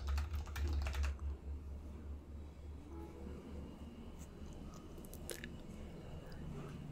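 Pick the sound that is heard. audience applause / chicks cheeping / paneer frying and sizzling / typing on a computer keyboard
typing on a computer keyboard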